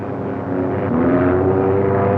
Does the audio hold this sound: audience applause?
no